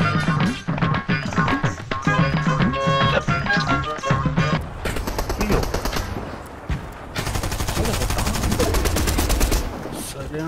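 Rapid bursts of automatic gunfire crackle in a Fortnite squad match, loud sustained volleys with breaks between them and a voice talking partway through.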